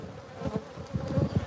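Bees buzz inside an open beehive during an inspection, a steady droning hum that rises and falls in close, overlapping swells with no one talking.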